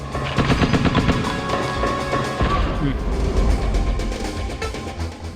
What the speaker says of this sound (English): We have this machine gun, though not too much ammo for it.